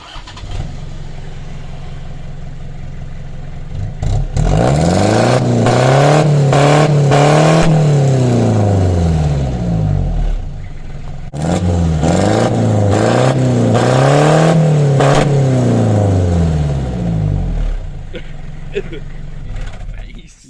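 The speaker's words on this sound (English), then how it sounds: "Rev it up, please." A car engine with an eBay turbo whistle exhaust tip revs loudly in two long sweeps that rise and fall, with the engine idling in between and at the start.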